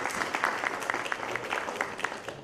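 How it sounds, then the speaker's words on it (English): An audience at a company introduction event applauds an advisory board member, with a steady, moderately distant patter of many clapping hands running evenly throughout. "Can we have a round of applause for Mr."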